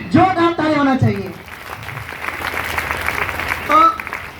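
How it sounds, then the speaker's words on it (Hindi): At a gathering, a crowd breaks into a couple of seconds of steady clapping for a woman being honoured; someone talks before the applause and again as it fades. "जोरदार ताली होना चाहिए"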